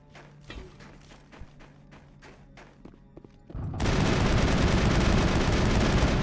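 Mass Effect gunfire: a run of rapid, punchy shots and thuds in quick bursts, then a sudden loud, sustained roar of heavy weapon fire or an explosion filling the last few seconds.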